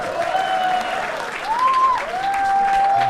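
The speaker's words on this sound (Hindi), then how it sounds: "एक बार यश के लिए जोरदार तालियां यार।" A comedy talent show audience breaks into applause, a steady wash of clapping with a sustained voice-like tone running over it throughout.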